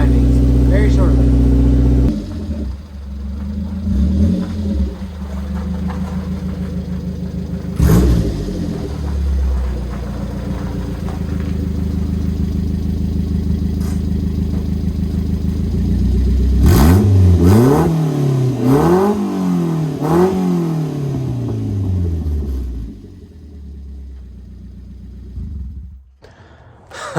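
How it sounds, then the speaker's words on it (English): A carbureted Subaru Sambar KS4 with a header and no muffler drives along, its raw, loud engine droning and revving up and down through shifts, then idling and dropping away near the end. "just took the carbureted sandbar out with the header and the muffler out for a little cruise"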